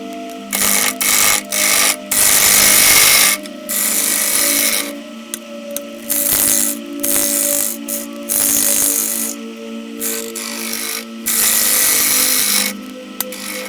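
Willow flower pot being turned on a wood lathe, a continuous rasping cut of the tool into wet, stringy wood with a steady motor hum beneath, broken by short pauses as the tool lifts and re-engages.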